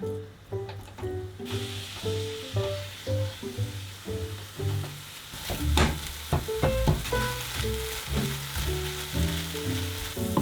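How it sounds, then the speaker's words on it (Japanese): Chicken breast stir-fried over medium heat and broken up in a pan sizzles steadily, with scraping and tapping from the utensil and a melodic backing track playing throughout. "中火にしてざっくり崩しながら炒める。"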